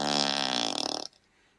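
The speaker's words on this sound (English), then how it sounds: "Fart noises." A single long, buzzing fart noise sound effect, loud and close, with a wobbling rasp that sputters out before the clip falls into near silence.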